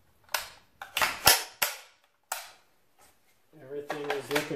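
Dry-fire function check of an HK USC rifle with an empty magazine: six sharp metallic trigger clicks and snaps spaced irregularly, close and fairly faint, followed by someone talking.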